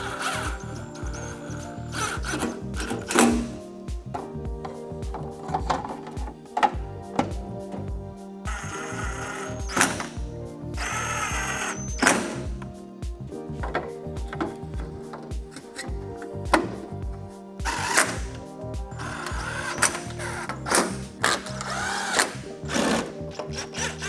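A power driver runs screws into the case of a Rockwood MIG 160 welder, giving repeated short whirring bursts with clicks and pauses between them, close and fairly quiet throughout.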